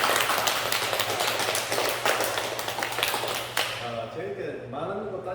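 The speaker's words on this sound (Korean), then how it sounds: "박수 한번 치고 감사합니다" An audience at a church summer retreat testimony gathering claps together in dense, lively applause that fades after a few seconds as a voice begins speaking.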